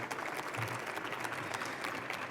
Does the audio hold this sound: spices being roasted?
no